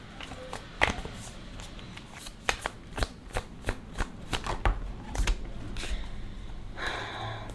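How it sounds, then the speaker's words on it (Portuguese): Oracle cards being shuffled by hand during a love tarot reading, close papery riffles and soft slaps in a fairly regular rhythm with no talk. "Tava só aqui embaralhando."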